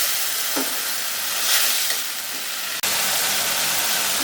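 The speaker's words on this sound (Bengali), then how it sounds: "তার জন্য সামান্য শুকনো মরিচ, হলুদ গুঁড়ো, একটু জল দিয়ে কষিয়ে দেবো।" Coriander paste, dried chili and turmeric sizzle in hot oil in a pan while being stirred for a raw banana kofta curry. The frying hiss is steady and close, with one sharp click near the end.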